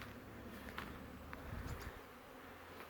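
Honey bees hum around busy hives on a sunny day, a faint steady buzzing with a few individual bees flitting close past.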